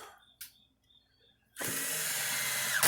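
A power driver runs screws back into the casing of a Gallagher electric fence energizer, a single steady whine lasting over a second after a few faint taps.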